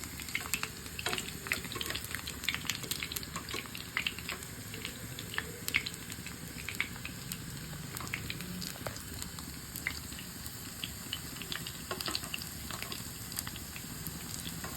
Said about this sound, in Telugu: ఇలాగ వేగాలండి అవి.